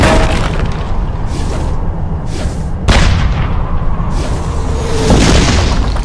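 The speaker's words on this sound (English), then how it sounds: "Under heavy fire, Wittman quickly retreated" Heavy anti-tank gunfire aimed at a retreating WWII Tiger tank: a continuous loud barrage of booming artillery-style blasts with a sharp, strong report near the middle, dense and sustained throughout, with no talk over it.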